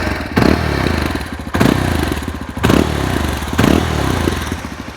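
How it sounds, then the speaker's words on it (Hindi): A 2025 Yezdi Adventure motorcycle's exhaust pulses nearby in a steady idle-like rumble, broken by four heavy, evenly spaced thumping revs roughly a second apart, with no talking. "यहाँ पे मैं आपको एक बार अगर सुना दूँ एग्जॉस्ट साउंड"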